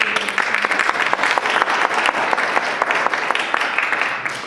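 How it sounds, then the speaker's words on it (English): An audience at a University of Florida oral and maxillofacial radiology graduation applauds loudly and steadily throughout, a dense wash of clapping with no speech heard. "I want to applaud her."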